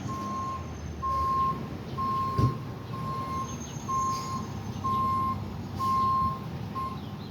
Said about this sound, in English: We're gonna back the ambulance up the street.